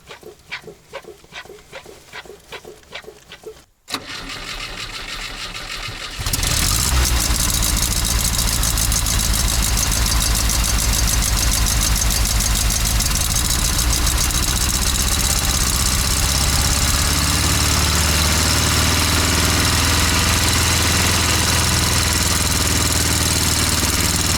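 The engine of a car abandoned for 30 years runs after its fuel line is blown clear. Light ticking comes first, then a short pause, then the engine catches and holds a loud, steady, rough idle up close for the rest of the clip.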